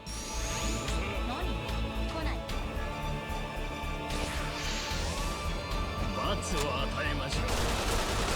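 Rapid gunfire and crashing hits in a turn-based battle in the video game Like a Dragon: Infinite Wealth, loud and continuous for about eight seconds over dense layered game effects.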